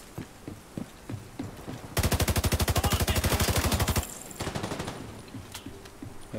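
Rapid automatic gunfire from a video game, a long sustained burst of evenly spaced shots fired through canvas, loud and close, preceded and followed by scattered single shots and softer game noise.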